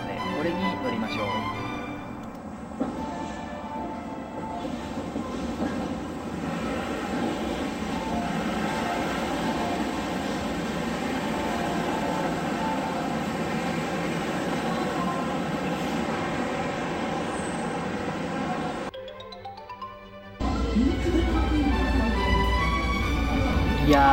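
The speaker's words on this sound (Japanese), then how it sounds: "ポイントが切り替わって電車がやってきたので、これに乗りましょう。" A steady mechanical whir and hum of an approaching monorail train, arriving after a track switch, grows and holds, then shifts to a brief whine and a loud low rumble.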